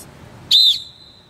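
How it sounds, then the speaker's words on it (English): A single short, loud, piercing whistle blast cuts sharply through quiet background, then stops abruptly. "When you blow the whistle, make sure it's loud and sharp,"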